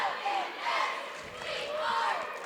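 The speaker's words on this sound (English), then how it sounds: "we got a great crowd tonight, both ways" A packed gym crowd at a high school boys basketball game, Fairland vs North Adams, roars and yells in rising and falling waves, loud and close, with shouting voices mixed into the din.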